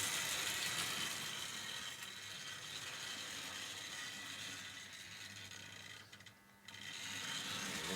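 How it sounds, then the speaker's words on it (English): A 1960 Tri-ang Railways RS.1 train set motor in poor condition runs slowly over dirty track, giving a steady close mechanical whir and ratcheting rattle for several seconds with a brief dip near the end. "Now this motor's running okay."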